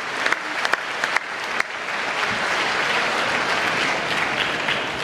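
Crowd clapping at MINECON swells from a few scattered sharp claps into dense, sustained applause filling the hall, loud and steady to the end.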